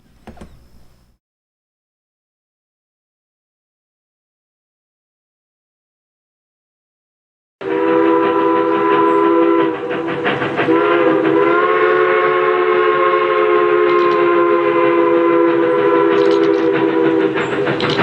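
Train sound effect opening a video intro: after a brief noise and several seconds of silence, a loud sustained train rumble with horn-like tones begins abruptly and holds steady to the end.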